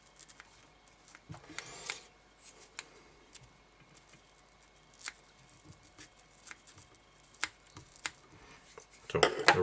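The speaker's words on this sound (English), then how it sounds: "So the rough of it is off now with the bigger scissors" Scissors trim the body of a Black Bomber salmon fly held in a vise, giving faint, sparse snips and small clicks scattered across a quiet room, ending in a short burst of louder handling noise.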